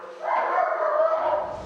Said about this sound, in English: it's a job for Blade, the police dog